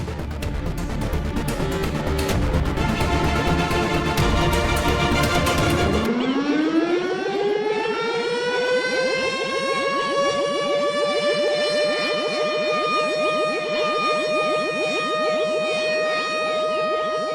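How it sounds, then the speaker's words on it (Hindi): Warning siren in a Baalveer TV show scene, starting after a loud chaotic burst and rising into a sustained wailing tone that holds loud and steady to the end. "ये उनका चेतावनी सायरन है"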